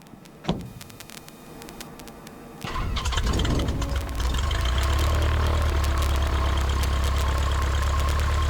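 A Cessna 150 light aircraft engine cranks and catches at about three seconds, then settles into a loud, steady idle with propeller drone, after a single sharp click near the start.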